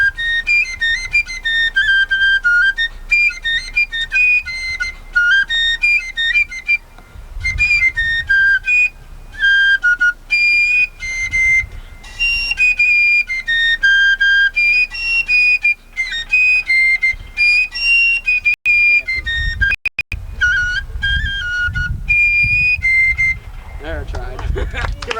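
A fife plays a lively tune at a 1998 fife and drum demonstration at Fort George, bright piping notes in quick phrases over about twenty-five seconds, with a few short breaks.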